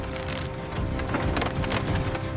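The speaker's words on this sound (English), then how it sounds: "A rain of bamboo chips" Fresh bamboo chips rain down from a crushing machine in a paper bag factory, making a dense, steady patter of woody clatter and splintering with several sharper bursts, close and continuous.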